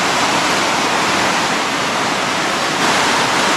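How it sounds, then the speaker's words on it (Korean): Elephant Falls in Dalat, Vietnam, roars as a loud, continuous rush of falling water, a dense unbroken broadband wash with no voices. "잠시 엘레펀트 폭포를 감상합시다."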